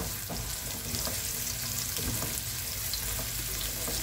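Onion frying in a pan gives a steady, dense sizzle with small crackles and occasional stirring clicks, loud and close throughout.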